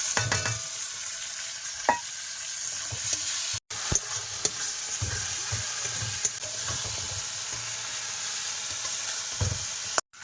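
Rohu fish curry with tomato sizzling and being sautéed in a pan, with steady frying hiss and repeated scraping stir strokes throughout, briefly interrupted by a short gap.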